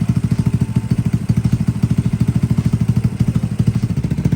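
A Boom Vader motorcycle fitted with a Nibbi PE 24mm carburetor idles at about 1,000 RPM, its single engine putting out a steady, fast, even chugging pulse, loud and close, with no voices.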